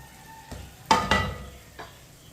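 A spoon stirs besan bhindi in a pan, giving two sharp scraping strokes close together and a fainter third stroke against a quiet background.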